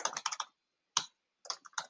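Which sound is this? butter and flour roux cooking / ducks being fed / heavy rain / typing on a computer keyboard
typing on a computer keyboard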